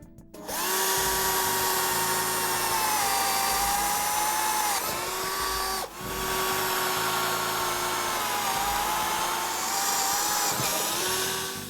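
A power drill bores the first two holes through a marked board, ready for a jigsaw blade: two long, steady high whining runs separated by a brief pause, loud and close with no talking.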